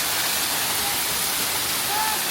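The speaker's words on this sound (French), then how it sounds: "la cascade elle est immense" A huge waterfall in Sri Lanka roars as a dense, steady rush of falling water, loud and close with no breaks and no voices.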